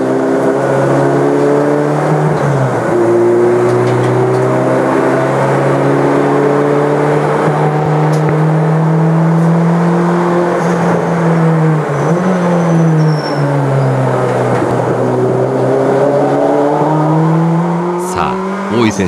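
A 5ZIGEN Honda Civic race car on M2 front and softer F2 rear tyres rolls slowly onto the track, its engine droning loud and steady with gentle rises and dips in revs.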